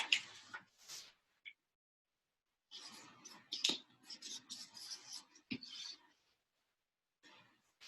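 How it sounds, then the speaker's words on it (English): Paper being folded and creased for a pop-up ice cream cone craft, heard as quiet scattered rustles and short rubbing strokes in separate bursts with gaps of silence. "Then I'm going to flip the whole thing over and fold this half down as well."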